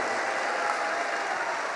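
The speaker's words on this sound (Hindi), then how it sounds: "ऐसी भावना के लिए, श्रद्धा के लिए खूब जोर से ताली बजा करके साधुवाद दो।" An audience at a religious discourse claps loudly and steadily, a dense continuous wash of applause from a crowd.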